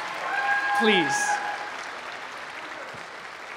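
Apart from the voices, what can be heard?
audience applause at music recital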